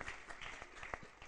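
Audience at a temple gathering clapping to welcome one another, a brief stretch of irregular, moderately close claps with no talk.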